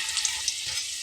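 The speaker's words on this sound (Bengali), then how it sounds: "আমি এপিট ওপিট করে ব্রাউন কালার করে ভেজে নিচ্ছি।" Potato puffs fry in hot oil with a steady bright sizzle and a few tiny pops while they brown on both sides.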